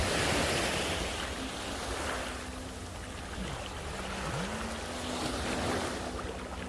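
Waves wash steadily onto a beach at Koh Samet, a continuous broad surf roar with some wind buffeting the microphone and no voices.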